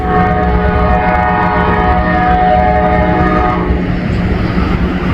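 An Amtrak train approaching on elevated tracks sounds its horn in a long, loud sustained blast over a steady rumble of rolling wheels, fading slightly toward the end.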